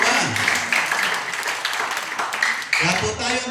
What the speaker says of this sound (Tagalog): Yung gustong magbigay, pumalakpak ng malakas kay Lord.